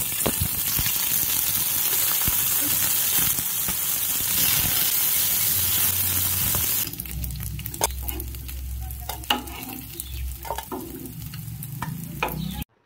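Loud, steady sizzling of fish frying in hot mustard oil, then the sizzle drops lower with crackles and a few clinks of a utensil.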